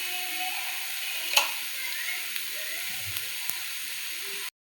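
Fenugreek seeds, ajwain and black pepper dry-roasting in a pan for an Udupi-style bangude fish masala give a steady soft hiss with faint crackles and a few sharp ticks, one louder pop near the start, with no talking.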